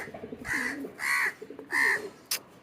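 A crow caws three times nearby, harsh drawn-out calls spaced about half a second apart, against quiet background.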